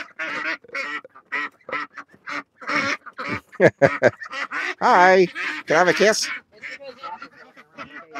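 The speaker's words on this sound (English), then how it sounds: "Males have more of a raspy quack and females got a louder quack." Backyard ducks, males and females, quack in loud, raspy bursts at close range, with a person talking among the calls.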